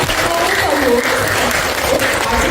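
Many people clap steadily at a library arts project's closing celebration, a continuous dense patter of hands with a voice speaking over the applause.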